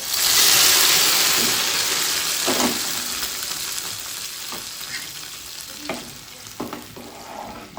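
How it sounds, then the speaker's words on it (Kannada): Ghee tempering with raisins and cashews for a sago and moong dal payasa fizzes loudly in a small pan, a strong hiss that settles into softer sizzling with a few clinks from stirring nearby. "ಒಂದೆರಡು ಟೇಬಲ್ ಸ್ಪೂನ್ ತುಪ್ಪ ಹಾಕ್ಕೊಂಡು ದ್ರಾಕ್ಷಿ ಗೋಡಂಬಿನೂ ಕೂಡ ಹಾಕ್ಕೊಂಡು ಇವಾಗ ಅದಕ್ಕೆ ಒಗ್ಗರಣೆ ಕೊಟ್ಕೊತಾ ಇದ್ದೀನಿ"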